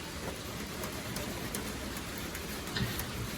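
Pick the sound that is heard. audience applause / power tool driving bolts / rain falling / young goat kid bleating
rain falling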